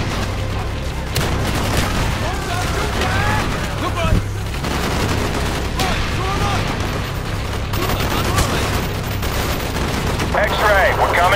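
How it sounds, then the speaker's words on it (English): Gunfire from an aircraft strafing run in Call of Duty Black Ops, a continuous rumble of heavy shots and booms over a low engine drone, with radio voices talking over it throughout. "Stand by for strafing run."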